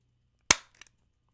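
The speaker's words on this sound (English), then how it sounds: "I'm gonna use a stapler." A single sharp mechanical snap of a stapler being pressed, loud and close, followed by a couple of faint clicks as the mechanism releases.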